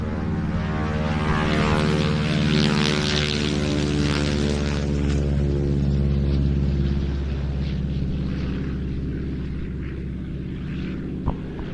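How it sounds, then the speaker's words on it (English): A North American Harvard 2A propeller aircraft flies past at an airshow, its rough droning engine note building and holding loud before gradually fading as it moves away. "And then we've got the North American Harvard 2A."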